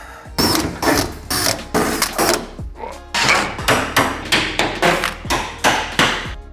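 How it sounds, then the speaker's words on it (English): Drilling out rivets and spot welds on the corner bracket supports of a Land Rover Defender 110 frame: a steady series of loud, close bursts of grinding drill noise, each dropping off between holes. "drill out the rivets and the spot welds holding these little corner bracket supports in place"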